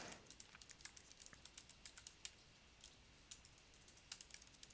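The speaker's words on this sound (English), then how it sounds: "Sorry if I'm typing fast." Quick, light keystrokes on a computer keyboard click in an irregular, steady run, heard close by and faint, with no talking.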